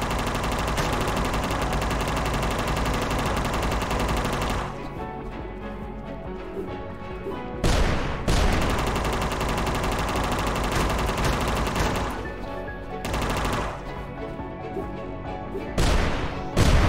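Rapid machine-gun fire from the video game UnMetal comes in long, loud, dense bursts separated by brief gaps, with sharp impact cracks punctuating the barrage.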